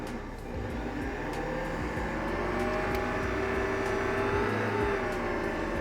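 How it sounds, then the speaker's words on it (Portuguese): An electric mixer whips egg whites to stiff peaks for French meringue, a steady whirring motor hum that continues without a break and rises slightly in level. "Aí eu bato as claras em neve, em ponto firme, e depois coloco o açúcar aos poucos"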